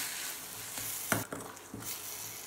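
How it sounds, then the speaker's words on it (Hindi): Onions and sugar sizzle steadily in a pan for kanda poha masala while a spatula stirs them, a few soft scrapes and knocks rising above the constant frying hiss, close and moderate, with no voices. "इसे 1 से 2 मिनट तक चीनी के मेल्ट होने तक मिला लेंगे।"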